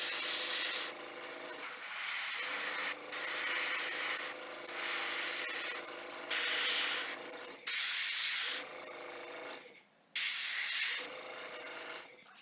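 Airbrush or aerosol spray painting a coat onto a Ninja All Stars Ronin miniature figure: steady close hissing bursts lasting several seconds each, broken by short pauses between passes, with no talking.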